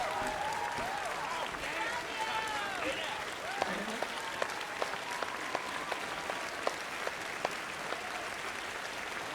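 Crowd cheering and applauding at a public event in Saint Denis in the video game Red Dead Redemption 2, a steady wash of clapping with scattered sharper claps throughout, with a voice speaking over it.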